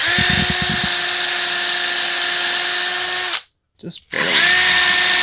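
A power drill whines loudly and steadily as it bores holes into a Sub series Music Man 5 bass guitar body, cutting out briefly near the end before starting again, with a short spoken remark at the start.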